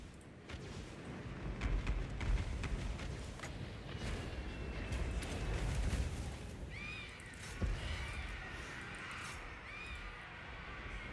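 Cannon fire from a Total War Warhammer 2 battle: repeated dull booms and sharp bursts over a dense, steady roar of combat noise, with a few louder blasts standing out.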